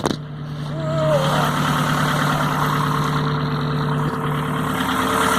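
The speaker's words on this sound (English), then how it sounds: "you can't check the engine while you're motoring" A steady boat engine drones and idles at close range while motoring on the Norfolk Broads, a constant low hum with a faint tonal whine, running unbroken through the whole stretch.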